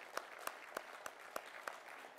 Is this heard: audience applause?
yes